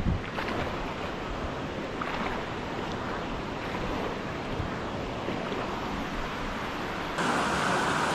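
A large waterfall roars inside a cave, a steady, dense wash of rushing water that swells louder near the end, with no voices.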